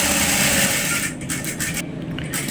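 An electric sewing machine stitches elastic onto a straight pant, a loud continuous motor whir that steadies and then runs on with a slightly lighter, even texture close by.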